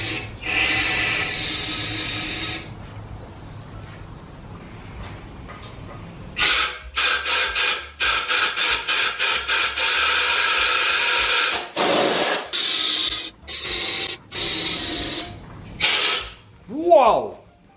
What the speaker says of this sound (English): I'm going to be spraying directly inside of those oil ports, and then I'm going to use my compressed air gun